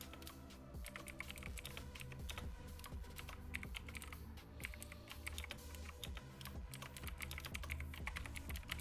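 Fast, steady clicking of computer keyboard keys runs the whole time, mixed with rhythmic music that keeps a repeating beat underneath.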